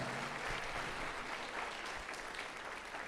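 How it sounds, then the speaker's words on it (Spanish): Church congregation applauding at a Spanish-language Catholic preaching service, a steady wash of clapping for about three seconds, moderately distant with a faint low murmur underneath. "Dale un fuerte aplauso a nuestro Señor por su amor y su misericordia."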